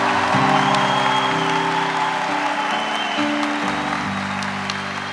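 Continuous applause from a church congregation, steady and sustained, with musical tones from an organ or keyboard playing underneath.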